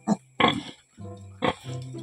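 A young dairy pig, easily startled, grunts in several short bursts with a low voiced tone, close and alone with no talk.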